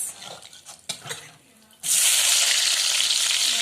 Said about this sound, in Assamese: তেলটো গৰম হোৱাৰ পাছত এতিয়া দিব পিঁয়াজ